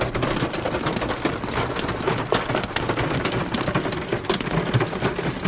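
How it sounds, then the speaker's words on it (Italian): Hail falls steadily and densely across outdoor surfaces, a loud continuous crackling patter with no voices. "Cioè, grandina proprio."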